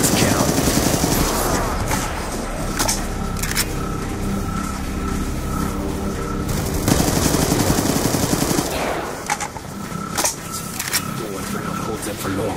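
Rapid automatic gunfire rattles in long, loud bursts during a Black Ops 2 Zombies match on the Origins map, sharp shots broken by brief pauses, with players talking over the shooting.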